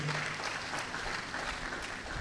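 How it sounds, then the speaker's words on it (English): A university audience applauds a vice chancellor at an academic event. The clapping is a steady, moderately distant patter that lasts throughout, with a faint thump at the very end. "I thought you gave him a round of applause."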